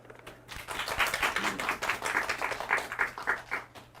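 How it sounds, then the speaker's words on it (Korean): Audience at a resource recycling festival ceremony clapping to welcome guests, a brisk round of fairly close, individually distinct hand claps that swells and continues steadily without talk. "다 같이 박수로 환영해 주시면 좋을 것 같습니다"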